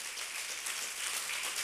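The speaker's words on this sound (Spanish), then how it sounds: "Denle un aplauso al Rey." Church congregation applauding during a Spanish-language sermon, a steady wash of clapping filling the short moment at moderate, even loudness with no voices over it.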